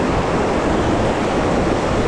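A river waterfall in the Blue Ridge Mountains rushes with a loud, steady broadband roar that stays unbroken throughout, with no voices present.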